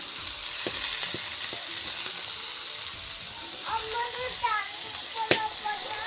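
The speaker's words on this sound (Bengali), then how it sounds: "এদিকে ভাজাটা হতে থাকবে" Rice fries in a pan with a steady low sizzle and occasional clicks of stirring, while a voice is heard briefly in the background near the end.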